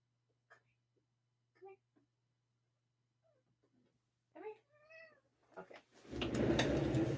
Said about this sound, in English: every single time you pick her up, she's like, "Eh, eh," like it's like the squeak noise.